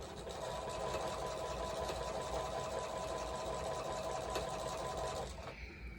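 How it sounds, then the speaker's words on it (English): A sewing machine runs steadily with a fast mechanical whir for several seconds, then stops abruptly near the end. "I fear you can't hear me over the sewing machine"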